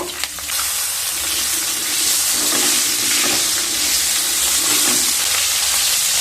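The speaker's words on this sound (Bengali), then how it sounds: "এবার ওই তেলে ফুলকপিগুলোকেও ভেজে নেব।" Cauliflower pieces fry in hot oil in a pan, a loud continuous sizzle and crackle with occasional stirring scrapes.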